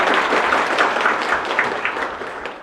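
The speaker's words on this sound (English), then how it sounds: "Let's give it up for everyone. A big round of applause." An audience applauding at the close of a lecture series address, a dense, steady wash of many hands clapping in a hall that fades slightly toward the end.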